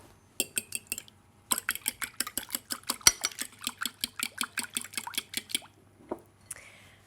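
Two eggs whisked in a bowl, a fast rhythmic run of bright clinks and taps against the bowl in two bursts, close and crisp, ending with a short scrape.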